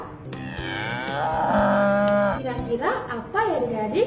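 A cow moos loudly in a long, drawn-out low call, followed by a second shorter moo, while someone speaks briefly over the end of it.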